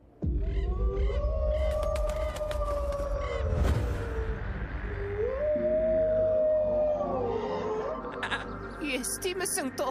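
Wolves howling close by in a children's animated film: long, wavering howls with gliding pitch rise and fall over a steady background, loud and sustained, with overlapping calls toward the end.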